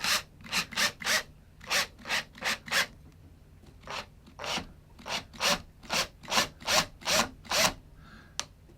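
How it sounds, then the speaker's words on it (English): A drill bores into a wooden guitar body through a small plastic card shielding the wood, giving repeated rasping bursts in quick, rhythmic runs with short pauses, close and moderately loud. "And now start drilling."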